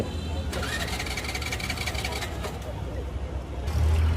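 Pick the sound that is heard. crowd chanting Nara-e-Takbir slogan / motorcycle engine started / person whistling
motorcycle engine started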